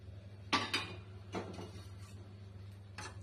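A spoon stirring wheat bread dough with green chilli and curry leaves in a bowl, a few close scraping clinks against the bowl over a steady low hum.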